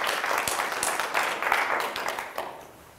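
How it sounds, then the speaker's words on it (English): Applause from an audience of eighth-grade girls at a school talk, a dense, steady clapping at close range that holds for about two and a half seconds and then fades out. "Give her a round of applause."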